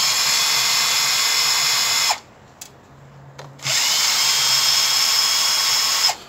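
A power drill removes screws from the valve plate of a Dunlop-type Land Rover air suspension compressor, running as a steady high whine in two long bursts separated by a short pause.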